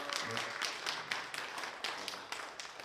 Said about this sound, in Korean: 오늘 바쁘신 일정 속에서 참여하신 거에 대해서 다시 한번 힘찬 박수 한번 부탁드리겠습니다